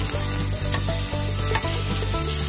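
Marinated beef sizzles loudly and steadily in a hot pan, a continuous crackling fry close up with a faint background hum.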